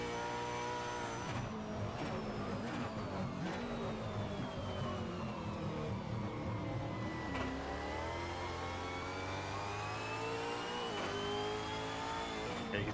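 Supercar engine in a sim racing game at Phillip Island, a continuous loud mid-pitched drone that rises and falls as the throttle is fed in gently, with the revs sagging and climbing again. No one talks over it.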